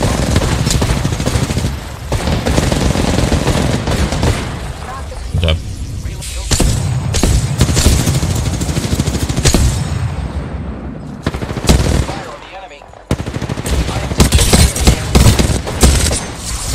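Loud, sustained automatic gunfire fills a battle-royale firefight in the shooter Apex Legends, rapid cracking bursts layered with impacts and brief pauses, while players talk over the action.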